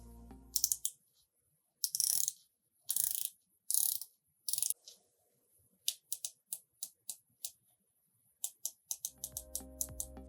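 The thin bezel of a black MMI Turret V2 40mm dive watch clicks as it is turned. Crisp, close ratcheting clicks come in separate bursts, then in a quicker run of single clicks, with a soft handling rustle at the end.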